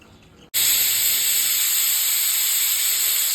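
A pressure cooker lets off its first whistle while cooking tomato bath, a sudden loud high-pitched steam hiss that bursts in after a quiet half second and holds steady at full force.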